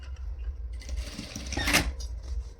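Sewing machine running a short back-stitch on a small girl's Nauvari blouse at the shoulder seam, a soft close whir that swells briefly near the end, with no talking.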